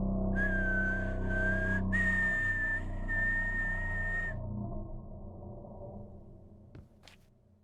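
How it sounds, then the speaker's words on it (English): A steady, odd whistling tune in the Maze: Rebirth video game plays as sustained high tones in several held phrases, loud and clear over a low ambient hum, then stops and leaves a faint background with a few small clicks. "I feel like anytime it's around, I hear a certain like whistling sound."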